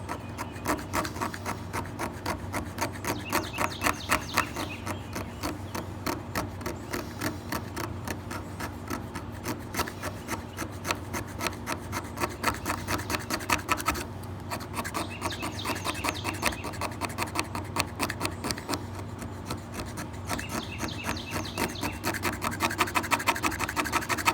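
Repeated scraping strokes on the end grain of a pine burl full of fatwood, a steady rhythmic rasp of wood being shaved into powder, close and even across the whole stretch with no talk.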